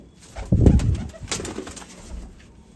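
A golden pigeon gives a short, close, soft cooing call, a low throaty burst followed by a couple of fainter murmurs.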